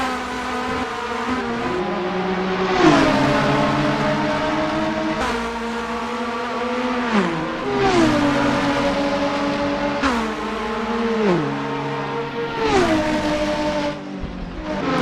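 Ford and BMW race cars roar through a racing video game, engines holding loud harmonic tones with repeated gear-shift drops and rises, cars passing close over a steady continuous drone.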